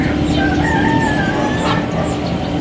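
A rooster crows with a long drawn-out call at about 5 a.m., heard over steady outdoor background noise with other birds faint in the distance.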